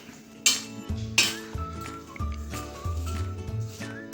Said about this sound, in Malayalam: നന്നായിട്ട് ഇളക്കി ചേർക്കും.